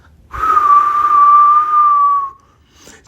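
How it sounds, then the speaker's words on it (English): A wind-like whistle used as a spooky Halloween story effect, one clear sustained high tone holding steady for about two seconds before fading out. "The wind whistled."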